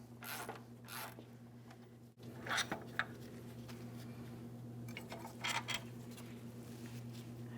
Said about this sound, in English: we can fully remove the next mounting bolt